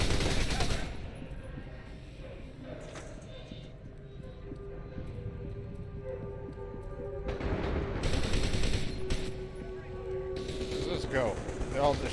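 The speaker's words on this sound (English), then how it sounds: "They're all just shooting me." Enemies shoot at the player in the video game F.E.A.R. 2: Project Origin, with rattling bursts of gunfire coming and going between quieter stretches, set against a low hum and occasional talk.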